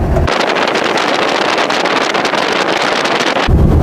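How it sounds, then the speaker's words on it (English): Strong wind buffets the microphone in a loud, continuous rushing roar for a few seconds, with low rumbling at the start and end. "It's a little windy here."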